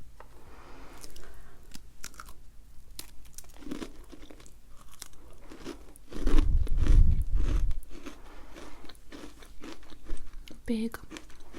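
Crunchy chocolate biscuit is bitten and chewed near the mic, a loud burst of crisp crunching in the middle between stretches of soft chewing, with someone talking around it.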